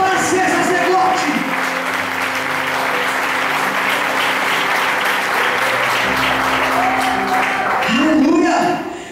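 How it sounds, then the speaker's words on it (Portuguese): Strong applause from a church congregation during a sermon, continuous clapping with voices and occasional shouts over sustained tones, rising again at the end as a loud voice cuts in. "Um forte aplauso a Ele, porque Deus me tinha levantado para ser sacerdote."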